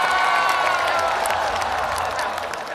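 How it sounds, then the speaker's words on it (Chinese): A studio audience at a Chinese talk-show taping claps in a dense, continuous burst of applause that slowly fades, heard alone at moderate loudness. "好， 掌声！"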